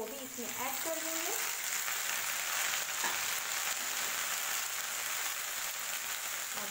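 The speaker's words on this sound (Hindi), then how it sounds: "इसी के साथ जो यहाँ पे हमने खीरा और टमाटर लिया हुआ है वो भी इसमें ऐड कर देंगे।" Cucumber and tomato hit a hot pan of lightly fried chilies, giving a continuous loud sizzle with brief clinks of a utensil near the start, steady throughout without speech.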